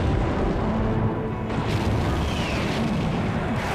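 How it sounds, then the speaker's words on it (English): Torpedo detonating against a warship's starboard bow at night, a deep, sustained rumbling boom that fills the scene, heavy and continuous with no speech over it. "The stillness was shattered by the explosion of the first torpedo, hitting the Indy's starboard bow."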